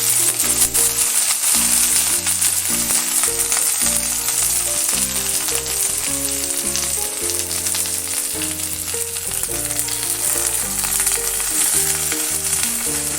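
Chhana paturi parcels frying in a pan give off a steady, hissing sizzle that runs throughout, partly masked by loud background music.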